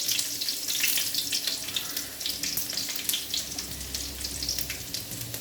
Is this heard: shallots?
yes